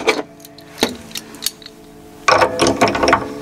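A tuning peg on a nylon-string guitar is turned to tighten a newly fitted string. It gives a series of close, dry ratcheting clicks and gear ticks, sparse at first and then a denser burst near the end.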